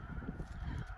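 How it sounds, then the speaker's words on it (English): Snow geese flock resting out on a refuge, a dense chorus of overlapping honks and calls continuing steadily throughout, moderately distant and fairly faint with no talking. "that's all snow geese sitting out there"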